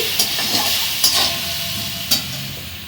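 Mutton stirred in a pan with chili powder and black pepper powder for a rezala-style curry: loud continuous sizzling with three sharp scraping strokes of a spatula against the pan, spaced about a second apart.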